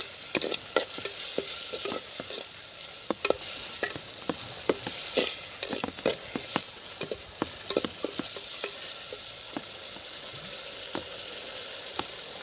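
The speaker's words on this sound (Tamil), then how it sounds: "நல்லா வதங்கட்டும்." Chettinad chicken gravy ingredients sautéing in a pan give a steady sizzle, punctuated by frequent sharp scrapes and clicks of stirring throughout, close and moderately loud with no talking.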